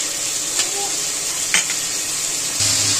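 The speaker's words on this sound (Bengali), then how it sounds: "মশলাটাকে ভালো করে কষিয়ে নেবো।" A spice paste of chili powder, turmeric, cumin and ginger paste sizzles steadily in a pan while being stirred, with a constant hiss and a few faint utensil scrapes.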